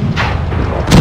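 A tank gun fires in the World of Tanks video game, a heavy booming blast with a thudding low rumble and a second impact at the end, loud and without speech.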